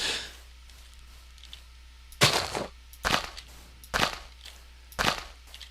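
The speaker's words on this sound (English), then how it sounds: "I'm gonna set off some fireworks for no reason." Minecraft fireworks launch and burst in four sharp, bright pops spaced about a second apart, each with a short crackling tail, over a steady low hum and with no talking.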